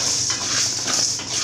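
Roasted gram being stirred in a hot kadai after the stove is turned off, making a steady close scraping and rattling of dry grains against metal, loud and continuous, with no talk.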